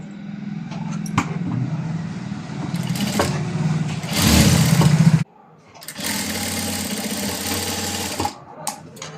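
A sewing machine stitches fabric for a long frock in two long, loud runs separated by a brief pause, a steady motor hum close at hand with no talking.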